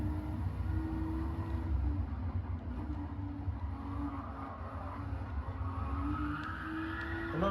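A Porsche driving in a racing video game, its engine droning steadily with shifting pitch and tire noise, continuous and moderately loud with no talk.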